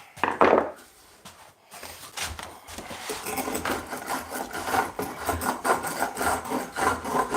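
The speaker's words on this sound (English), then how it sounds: "So I've got a spoke shave here" A spokeshave pulls shavings from wood while a tote handle is shaped, giving a run of repeated rasping, scraping strokes after a brief pause, fairly close and steady, with no talk over it.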